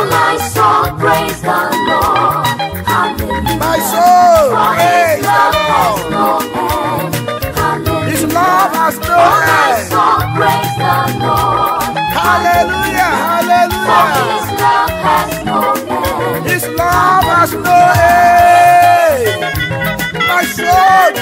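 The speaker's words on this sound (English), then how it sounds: "Singing, clapping and shouting." A church congregation sings a praise song with instruments, clapping and shouting, the sound full and continuous with a lead voice and melodic vocal lines throughout.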